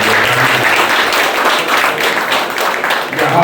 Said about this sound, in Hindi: तालियों की गड़गड़ाहट से इसका स्वागत करें।